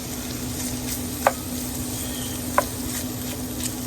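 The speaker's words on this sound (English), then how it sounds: "We're gonna go in with the smoked sausage. We'll get it browned up" Smoked sausage browning in butter, a steady close sizzle and crackle under a faint hum, with two sharp pops partway through.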